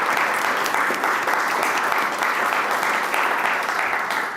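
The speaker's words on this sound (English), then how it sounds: "Everyone can join me in a round of applause." An audience at a talk on school productivity claps in a steady round of applause, moderately loud and continuous from start to finish.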